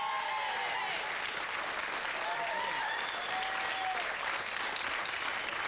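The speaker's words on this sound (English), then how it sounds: "Give her a big round of applause, ladies and gentlemen." Studio audience applause on a 1992 television quiz show, a steady, dense wash of clapping that holds at an even level from start to finish, with no one talking over it.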